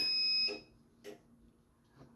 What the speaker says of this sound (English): My heat press is beeping and acting crazy over here